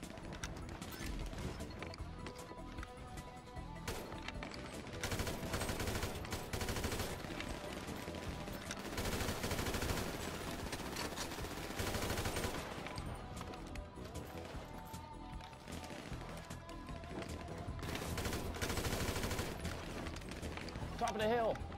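AK rifle gunfire in a video game, repeated loud bursts of automatic fire in long stretches over about twenty seconds, with a voice talking at times among the shots.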